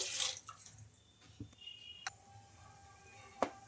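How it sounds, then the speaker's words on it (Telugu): About a cup of water is poured into a kadai on a lit stove, giving faint splashing and scattered drips over a low background hiss, with a small clink near the end. "అందులోకి ఒక కప్పు దాకా అయితే వాటర్ అయితే వేసుకోవాలి"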